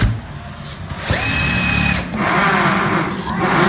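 A power drill bores small countersunk holes for screw heads in plywood on a tubular-frame second floor, whining in a steady burst that starts abruptly, dips briefly, then resumes at close range.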